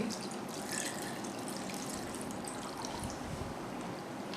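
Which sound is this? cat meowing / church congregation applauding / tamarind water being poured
tamarind water being poured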